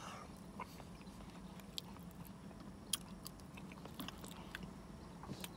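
Someone eats cheesy grits from Waffle House at close range, with soft wet chewing and small mouth sounds over a quiet background, a few brief clicks and crunchy bites, and no talking.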